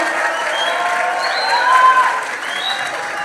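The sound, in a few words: audience applause for a speaker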